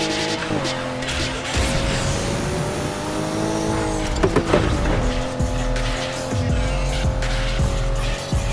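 Car engines roar at high revs while tires squeal and skid repeatedly, with a brief crunch of impact midway, in the racing video game Need for Speed Heat.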